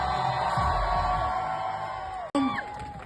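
Crowd cheering and whooping at the GP Explorer race event as two Cupra team drivers are introduced. A loud, sustained roar with yells runs throughout, briefly cut off near the end before resuming with shouts.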